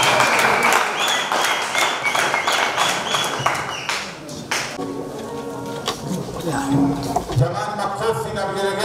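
A crowd claps and ululates at a college handover ceremony as a machine is presented to the principal: dense, brisk clapping for several seconds, then high trilling voices and cheering carrying over thinner applause.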